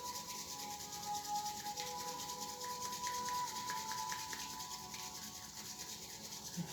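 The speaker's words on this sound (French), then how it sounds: "On frotte et on vient chercher la chaleur dans les paumes de main" Palms rubbed together during a yin yoga self-massage, a soft continuous dry friction sound, quiet and close, with no talking.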